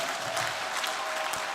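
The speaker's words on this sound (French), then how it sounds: "Applaudis très bien le Seigneur des Seigneurs." Congregation clapping during a mass prayer service, a dense steady patter of many hands sustained throughout with no voices over it.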